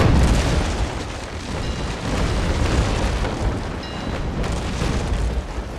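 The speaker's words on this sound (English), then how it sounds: "My cannon's firing while the wood chips off his" Ship cannons fire broadside in the Naval Action naval combat game, a dense run of rolling booms and rumbling blasts that keeps going throughout at moderate loudness.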